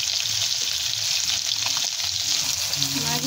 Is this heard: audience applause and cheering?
no